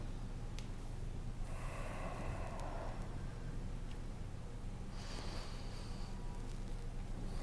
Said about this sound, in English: we're just going to go through 5 or 7 breaths just in this manner